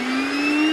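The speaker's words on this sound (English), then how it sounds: "I'm gonna get the rest with my new little vacuum" A small, new cordless handheld vacuum cleaner runs steadily at close range during a flat renovation cleanup, giving a continuous high whine with a strong steady hum and no talking.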